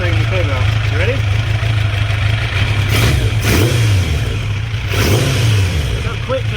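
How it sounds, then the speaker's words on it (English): A Kawasaki GPZ900R barn-find motorcycle engine idles steadily, then blips up in a couple of quick revs and drops straight back to idle, loud and close. "Now listen to the idle and the rev."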